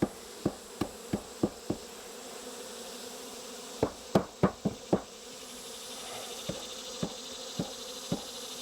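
Steady buzzing of honeybees from a queenless hive fills the background, broken by a series of sharp knocks, first in a quick run, then a cluster, then spaced taps.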